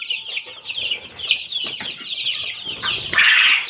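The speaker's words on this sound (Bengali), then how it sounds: "এগুলা সোনালী ক্লাসিক মুরগির বাচ্চা, আজ বয়স 10 দিন।" A brood of ten-day-old Sonali classic chicks cheeps in a constant, shrill chorus of overlapping peeps, close by and busy throughout, with occasional soft flutters.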